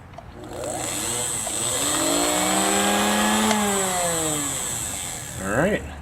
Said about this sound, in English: that motor seems to be working well